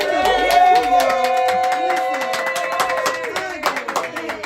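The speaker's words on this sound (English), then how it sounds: "Can I get some hand claps?" A live-streamed audience clapping on request in front of a host, a steady patter of hand claps running under loud music and voices throughout, with people talking over it.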